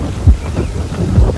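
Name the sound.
wind blowing outdoors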